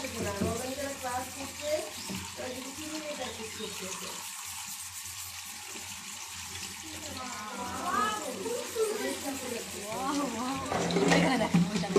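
Dyed fabric being rinsed and worked by hand in water during batik or tie-dye work, with sloshing and splashing that swells toward the end while voices talk over it.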